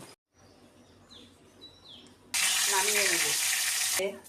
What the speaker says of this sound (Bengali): আমি সামান্য গরম জল দিয়ে দিলাম